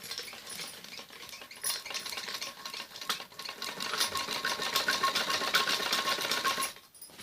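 A sewing machine stitches a padded blouse close to the embroidery, running in a fast, steady mechanical whir of needle strokes with a brief pause near the start and an abrupt stop at the end.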